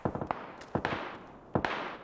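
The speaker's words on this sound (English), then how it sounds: "I can hear guns all around us." Gunfire crackling around in the game PUBG, sharp rapid shots in quick bursts, a cluster of several cracks then two more isolated volleys, fairly faint and without talk.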